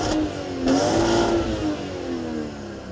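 A BMW engine with a suspected fault and a dead turbo, revved hard outdoors in cold weather; several loud, close rising revs with surging peaks, then the pitch falls back toward idle.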